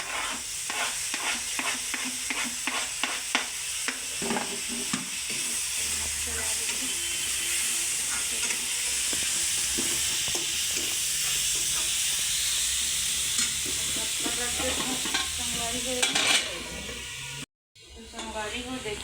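Onion and tomato fry in a pan for a fenugreek leaf curry, giving a continuous sizzle with repeated rhythmic spoon scrapes and stirring clatter, a short silence near the end, then the frying resumes.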